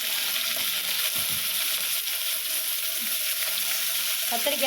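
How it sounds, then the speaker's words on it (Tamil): Vegetables sauté in a pan as brinjal is added for a mango, brinjal and drumstick sambar, a steady close sizzle with occasional light clatter and scraping, no speech. "இது எல்லாம் வதங்கிட்டு இருக்கும் போது கத்திரிக்காய்"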